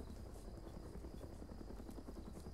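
A helicopter in the ArmA 3 military video game gives off a faint, steady rotor drone that holds constant and sounds distant and low.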